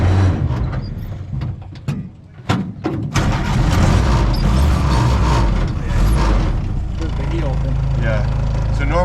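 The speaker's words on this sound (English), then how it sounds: "So clutch, turn the key on," A 1947 Willys CJ2A jeep engine cranks and catches after a few uneven starts, then settles into a loud, steady idle rumble close by, with people talking over it.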